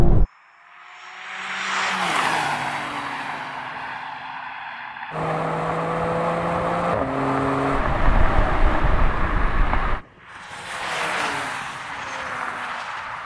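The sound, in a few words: BMW M3, Alpina B3, M340i, M340d accelerating in a drag race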